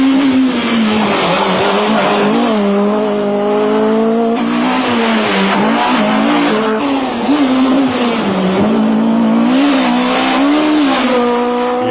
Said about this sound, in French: la Clio Maxi s'éloigne